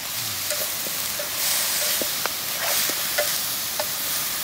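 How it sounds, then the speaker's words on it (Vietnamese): Chopped banana flower is stir-fried in a full pot over a campfire in the forest, with a steady hiss of frying and several light scraping stirs of a utensil against the pot. "Hoa chuối này, bỏ vào xào nhé."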